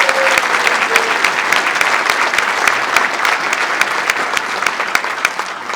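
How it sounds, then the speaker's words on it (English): Steady, dense applause from an audience at a mayoral swearing-in ceremony in Stockton, sustained and loud throughout with a few sharper claps standing out near the microphone. "Another round of applause for Mr. Brown,"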